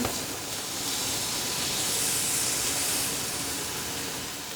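Beef pieces searing in a hot pan for roast beef, a steady, even hiss of fat and juices that swells slightly and holds for several seconds with no talking.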